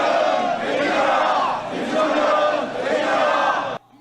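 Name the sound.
protest crowd shouting slogans in the street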